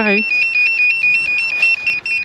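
A steady, thin electronic beeping from the electronics of a VolantexRC Trainstar RC plane pulses rapidly at a high pitch, continuing under a voice talking close by.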